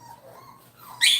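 A puppy whimpers and yips while being bathed at a dog kennel, a soft thin whine rising into a sharper, louder cry at the end, close by.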